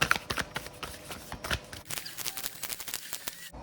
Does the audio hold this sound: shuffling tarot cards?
yes